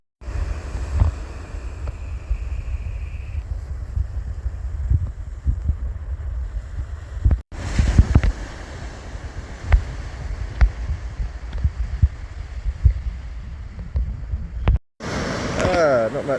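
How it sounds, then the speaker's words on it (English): Wind buffets the microphone on an ocean beach during a camping and fishing trip, a loud continuous low rumble with gusts throughout and two brief cuts, while someone talks over it. "It's still pretty windy, but it's meant to drop off this morning,"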